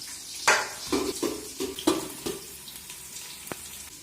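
Onions and green chillies frying in a pan for village-style prawn biryani, a low sizzle beneath a series of close, irregular clanks and scrapes of a utensil against the pan.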